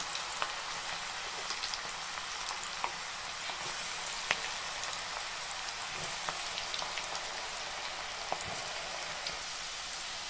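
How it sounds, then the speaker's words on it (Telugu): Alwar root cut into sticks sizzles steadily in hot oil on a stove, a dense, even crackle with scattered small pops running the whole time at moderate loudness, no voices. "మనం ఆల్వార్ గడ్డలను స్టిక్స్గా కట్ చేసుకున్నాం వాటిని అందులో వేసుకొని దూరం వేయించుకోవాలి"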